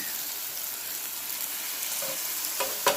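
Bacon fries in a pan, producing an even, close sizzling hiss with a few light clinks and a small knock near the end, no talking.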